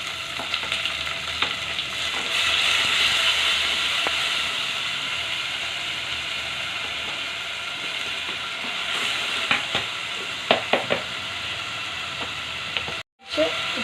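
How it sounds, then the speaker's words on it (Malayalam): Crushed onions and green chilies sauté in hot oil in a pan, a steady close sizzle with occasional scraping and clicking of a stirring utensil, then a short break and a final clatter. "നന്നായിട്ടൊന്ന് വഴറ്റിയെടുക്കാം കേട്ടോ."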